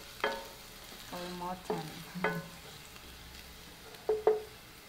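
Garlic frying in a pan for a fish-and-egg dish, with a faint sizzle beneath several sharp clinks and scrapes of a utensil stirring against the pan; one brief spoken word.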